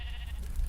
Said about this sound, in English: Oh, it's a sheep.